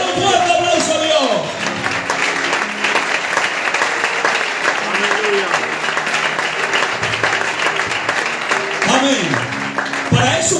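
A crowd at a youth church convention in Galicia applauds loudly for about ten seconds, a dense, continuous clapping with voices calling out over it.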